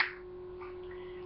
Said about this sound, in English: I'm going to snap my fingers right now